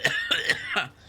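A person coughs several times in quick succession, close and loud, with a throat-clearing quality between the harsh bursts.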